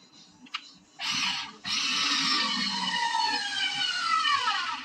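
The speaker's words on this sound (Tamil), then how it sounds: "ஸ்டார் ஸ்க்ரூ பண்ண போகிறோம் இப்போ" Ingco CSDLI0402 cordless screwdriver with a star bit driving a star screw, a steady whirring motor hum that starts briefly, stops, then runs continuously with a slowly falling pitch as the screw seats.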